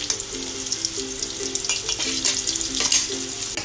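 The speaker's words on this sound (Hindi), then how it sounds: "ऑयल गरम हो गया है, इसमें अभी ये जीरा ऐड कर रही हूँ। जीरा हल्का भुन गया है, इसमें अभी मैं ये अनियन ऐड कर रही हूँ।" Onions and cumin seeds frying in hot oil, a loud steady sizzle with scraping stir strokes throughout, close up, no one speaking.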